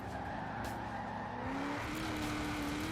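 Tires skid and squeal as a dirt-tuned car brakes hard in Forza Horizon 4, with a loud continuous engine drone and a rising squeal over it.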